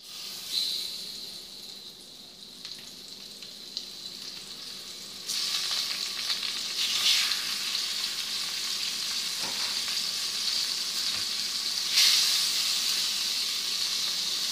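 Dourado fish cooks in a pan for a coconut milk moqueca, giving a soft steady sizzle and hiss that grows louder partway through, with a few faint clinks and no voices.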